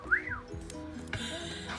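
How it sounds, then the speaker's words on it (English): A customized Beyblade Giest Fafnir spinning top, fitted with a level chip and an 8 prime disc, gives off a sharp rising-then-falling whistle near the start, followed by softer whirring and scraping as it keeps spinning. "That was a neat whistle, right?"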